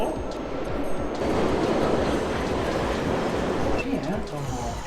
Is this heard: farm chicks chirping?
no